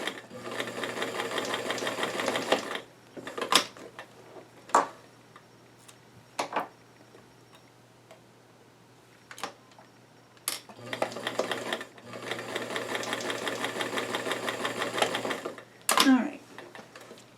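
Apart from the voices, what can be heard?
sewing machine stitching doll jeans pockets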